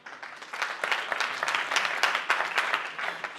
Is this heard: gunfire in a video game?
no